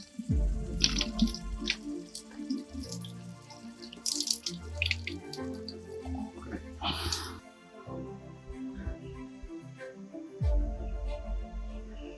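Drinking water is drawn from a village well in Konkan: splashes, pouring and dripping, with low thuds close by and voices in the background.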